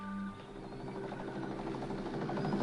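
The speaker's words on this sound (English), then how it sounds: "Helicopter coming this way." A helicopter approaching at night with a spotlight, its steady rapid blade chop and engine whine holding constant and growing slightly louder, with no speech over it.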